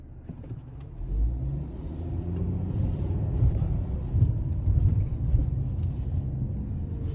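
A Foxbody Mustang pulls around after a U-turn, its engine rumbling low and revving moderately as it moves off, close and steady for several seconds with no talk.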